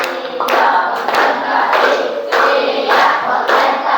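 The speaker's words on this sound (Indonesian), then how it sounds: "Tepuk fokus, siap presentasi." A school class claps and chants together in a rhythmic focus routine, loud and close, with sharp collective claps marking a steady beat between bursts of group voices.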